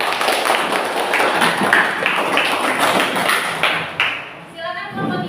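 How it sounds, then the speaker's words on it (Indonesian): A classroom of students claps for a student group after its presentation, a dense burst of close, fairly loud clapping that fades out near the end. "tepuk tangan untuk kelompok 2"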